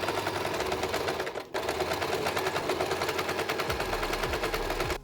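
Fast, steady mechanical chatter of a sewing machine stitching a neck strip onto a kameez, running loud and close with one brief pause before continuing.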